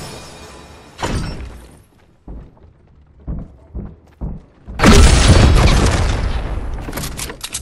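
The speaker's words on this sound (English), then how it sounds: "I just shot him out of the cannon." A cannon in a video game fires a player out, with several booming thuds and then a loud sustained blast that trails off.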